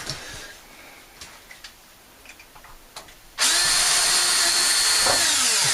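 A battery drill with a very small bit starting screws during a garden tub removal, quiet handling ticks first, then a loud steady whirring drill run that continues to the end.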